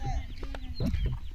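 Chickens cluck in brief, scattered calls amid outdoor noise during a casual street cricket game, with some voices nearby.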